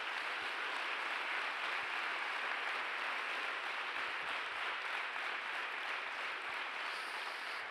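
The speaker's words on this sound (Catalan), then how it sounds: "Un aplaudiment per ella" An audience applauds the co-pilot, Roser Loscos, at a book presentation, a steady, even wash of clapping lasting several seconds, moderately distant and without speech.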